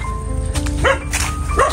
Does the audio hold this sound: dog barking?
yes